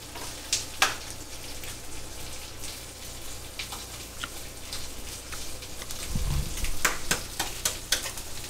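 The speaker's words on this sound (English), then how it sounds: "I'm crisping up some ginger" Ginger crisping in a hot pan gives a steady, faint sizzle and crackle throughout, with scattered sharp ticks and light clinks of a utensil against the pan.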